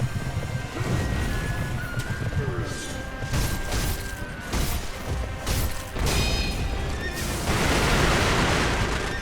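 Horse neighing amid combat in the video game Sekiro, with crashing hits and heavy impacts layered over a dense, loud game soundtrack; a voice talks at times underneath.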